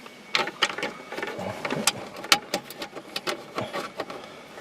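Screws driven into the overhead console of a 2007 Ford Focus, a series of short sharp clicks and ratcheting bursts, fairly quiet and irregular.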